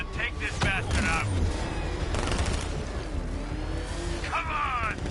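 Gunfire and combat noise in the Batman: Arkham Knight video game, a dense, continuous clatter of shots and mechanical battle sounds with voices talking over it throughout.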